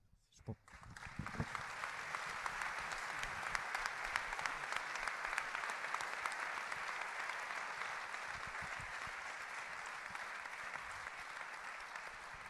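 An audience at a French-language film screening applauds steadily and densely for about twelve seconds, sounding fairly distant and even throughout.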